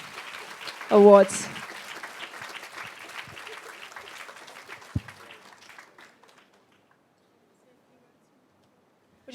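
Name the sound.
audience applause for the award winner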